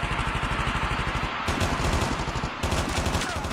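Video game gunfire rattles in rapid automatic bursts, loud and close, with two brief pauses between long strings of shots.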